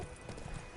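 A horse gallops in The Witcher 3, with rapid, muffled hoofbeats clip-clopping close by in a brief, continuous burst.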